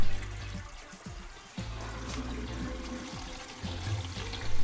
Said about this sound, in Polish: Zamknąłem korek, napuściłem wody, otworzyłem korek i trochę cieknie.